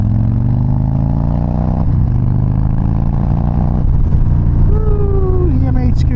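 Harley-Davidson M8 motorcycle engine idling with a deep, steady rumble, then blipped and revved at a vendor area during the Sturgis rally, loud and close with background chatter.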